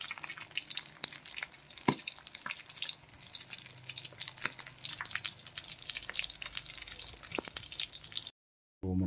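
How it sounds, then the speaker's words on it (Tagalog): Large fish fry in hot oil with steady crackling and popping sizzle, sharp spits scattered throughout, close up, before a brief cutoff. "So, prito naman tayo mga tatso. Ayan. Malalaking isda."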